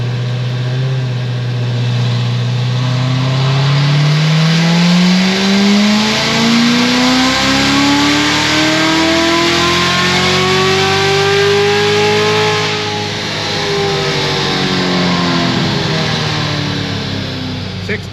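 A supercharged C7 Corvette Z06 with headers, heat exchanger, tune and 103 throttle body makes a full dyno pull, its engine note climbing steadily in one long, very loud rising wail before easing off near the end.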